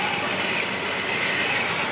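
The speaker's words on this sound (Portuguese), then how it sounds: "o trem aí de celulose, né? Vazio, tá sentido aí interior de São Paulo." An empty Rumo cellulose freight train departs in Itu, São Paulo, producing a loud, steady rolling roar with grinding wheel and rail noise, close by and continuous throughout.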